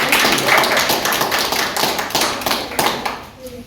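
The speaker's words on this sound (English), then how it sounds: "give my friend Ashton a big round of applause" After a kendo demonstration at an Empire of Japan history event, an audience gives a loud, dense round of applause, many hands clapping close together, fading slightly toward the end.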